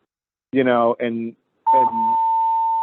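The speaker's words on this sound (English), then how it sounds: "sorry, that's just an alarm" An alarm going off during a test sounds as a loud, steady single-pitched tone that holds alone for over a second, just after brief bursts of voice.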